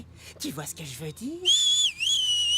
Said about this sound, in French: Mais tu sais que tu siffles hyper bien.